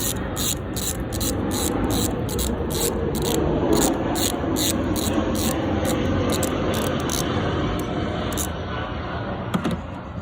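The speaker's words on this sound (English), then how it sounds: "First I'm going to use a 7mm socket." A 7mm socket on a ratchet loosens bolts on the induction pipe of an Abarth 500 1.4 T-Jet engine, giving steady, evenly spaced clicking close by for about eight seconds over a continuous rubbing noise.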